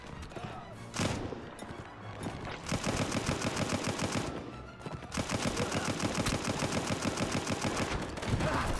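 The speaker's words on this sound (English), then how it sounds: "The enemy machine guns got me in their sights." Enemy machine guns rattle in the WW1 video game Between Empires: a short burst, then long sustained volleys of rapid automatic fire, loud and close with brief pauses between strings, and no talking.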